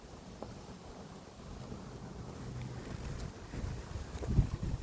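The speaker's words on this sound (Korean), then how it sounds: "바람이 좀 많이 부네요." Strong wind blows steadily outdoors, a broad rushing roar that buffets the microphone and swells louder toward the end, with no voices over it.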